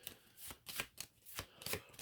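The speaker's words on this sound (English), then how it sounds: "and let's shuffle it in." A deck of Arkham Horror board game cards being shuffled by hand: several quick riffling bursts in an uneven rhythm, close and clear, with no talking.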